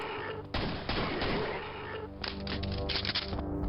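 Pistol shots in Quake fire in a quick series of sharp cracks, close and fairly loud over a dense game soundscape.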